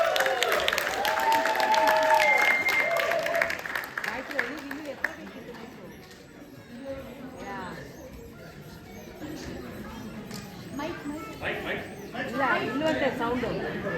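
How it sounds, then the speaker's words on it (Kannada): An audience at a children's Deepavali drama claps loudly in the first few seconds, a broad crowd applause that fades into chatter and children's voices talking nearby. "ಜೋರಾದ ಚಪ್ಪಾಳೆ."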